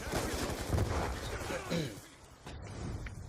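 Rapid bursts of gunfire crackle in a shooter video game, loud and dense at first and then thinning out, with a faint voice briefly audible in the middle.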